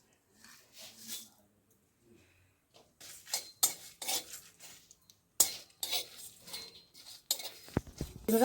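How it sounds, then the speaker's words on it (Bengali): Whole spices (dried green chillies, cumin, cinnamon pieces, cardamom and a little fennel) dry-roasting in a pan: scattered quiet scrapes at first, then bursts of rattling and scraping as they are stirred, close by. "এগুলোকে এবার আমি শুকনো খোলায় ভেজে নেব"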